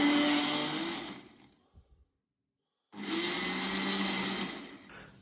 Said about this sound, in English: here I am about to wake up all of my neighbours at 7 AM in the morning with my